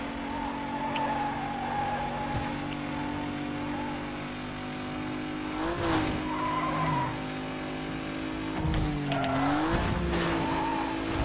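Race car engines droning steadily with repeated tire skids and squeals in the Need For Speed Most Wanted racing game, loud and continuous with sharper screeches partway through.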